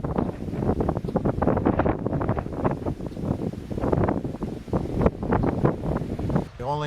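Strong gusting wind sweeps across an open farm, buffeting the microphone in loud, continuous rumbling surges with brief lulls.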